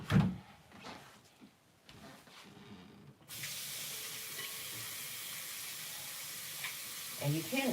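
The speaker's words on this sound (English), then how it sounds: "And you can rinse your rag out as you go" A rag is rinsed out under a running tap while cleaning: a few faint knocks and clatters, then a sudden, steady rush of water that carries on evenly, close and moderately loud.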